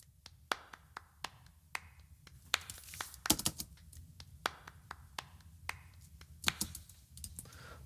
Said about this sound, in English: This is clapping my hands.